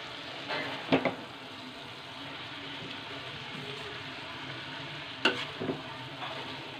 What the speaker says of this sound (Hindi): चलाने नहीं हो रहा है तो 2 चम्मच से हम चलाएंगे इस तरह